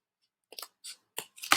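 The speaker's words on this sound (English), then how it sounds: "Cut my notch out." Scissors cutting a notch, four or five short, crisp snips in quick succession, close and fairly quiet against silence.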